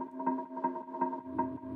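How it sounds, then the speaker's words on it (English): An orchestral cue with kickstart sidechain applied pumps rhythmically, sustained chords ducking and swelling in a regular pulse about every third of a second, heard alone without voices. "So I just put a little sidechain on it, and now it sounds like this."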